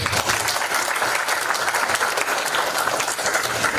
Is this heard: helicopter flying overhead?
no